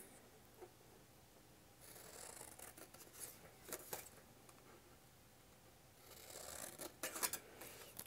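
Scissors cut a square out of a cardboard gift box, giving bursts of close crisp snipping and scraping, separated by quieter gaps.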